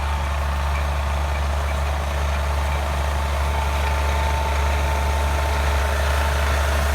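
A John Deere 4250 tractor with a recently repaired head gasket runs at a steady idle in a hayfield, a continuous low diesel rumble heard close by with no talking.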